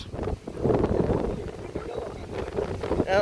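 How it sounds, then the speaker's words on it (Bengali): Strong wind gusts across a hillside near Birupaksha temple on Chandranath hill in Sitakunda, buffeting the microphone in a loud, rumbling rush that rises and falls, with a voice speaking intermittently. "এখানে অনেক বাতাস"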